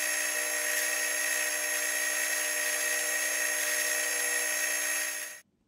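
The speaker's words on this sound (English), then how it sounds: "what I was doing then with the drill was just drilling a series of holes to gain access into this" Power drill boring a series of holes into a bass guitar neck for truss rod access in a luthier's workshop, a loud continuous high-pitched whine held steadily for about five seconds before cutting off abruptly.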